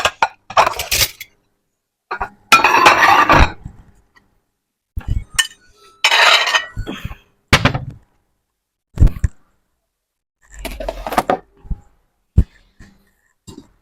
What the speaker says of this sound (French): je vais ranger toute ma vaisselle là